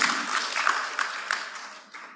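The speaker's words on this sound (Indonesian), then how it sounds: "Aplaus lagi untuk kita semuanya." Audience applause at a retirement graduation ceremony for PLN employees, a steady wash of many hands clapping that carries through and slowly thins toward the end.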